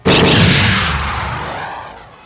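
A single heavy blaster cannon shot from a Star Wars tabletop roleplaying session, a loud booming blast with a sharp attack that rolls off over about two seconds, heard alone.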